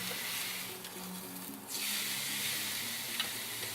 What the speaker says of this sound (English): after just one quick minute on the grill, I'm already going to give it a flip